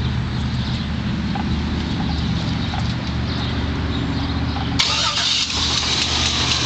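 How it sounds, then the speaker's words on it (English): A 2000 Chevy Express 1500 conversion van engine cranks and catches, settling into a steady, deep idling rumble with a sharp shift in tone partway through. "So we're gonna start it up here for you guys"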